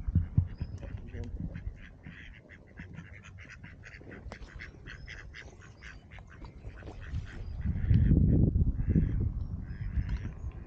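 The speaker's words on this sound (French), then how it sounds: "Vous avez les canards, on va essayer de filmer les canards." Ducks quack beside a river, with scattered calls over steady outdoor noise and a louder rumble of wind or movement near the end.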